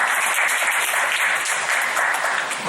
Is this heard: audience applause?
yes